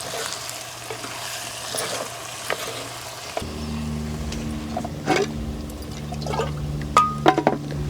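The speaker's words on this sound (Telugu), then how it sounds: "అలాగే కొంచెం నీళ్ళు కూడా వేసుకుంటున్నాను" Water poured into a drumstick masala curry in a pan, the dry frying sizzle giving way to a fuller bubbling simmer with a few stirring knocks and splashes close by.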